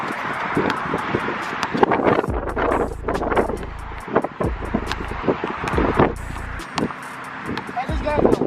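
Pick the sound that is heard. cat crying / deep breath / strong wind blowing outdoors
strong wind blowing outdoors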